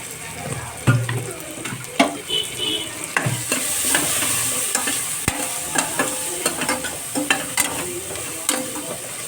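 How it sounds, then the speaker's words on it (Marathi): Red chilli powder, turmeric, coriander and vegetables stir-fried for dal khichdi: a loud, busy sizzle with frequent clattering scrapes and knocks of a spoon in the pan, close up and continuous. "व्यवस्थित मिक्स करून घ्यायचं परतून एक मिनिटासाठी"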